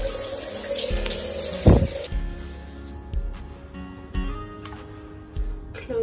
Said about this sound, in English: Now I need to shower.